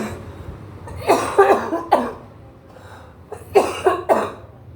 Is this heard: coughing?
yes